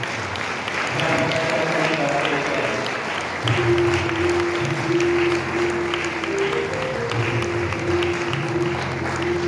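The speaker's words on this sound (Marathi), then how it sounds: "सगळ्यांनी टाळ्या वाजवून" Audience applauding at a book launch ceremony in Pune, a sustained burst of clapping from a crowd in a hall, steady and fairly loud with tonal music or hum underneath.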